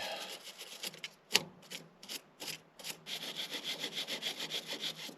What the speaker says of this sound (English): So I'm gonna clean the washer off, and then I'm gonna grab this.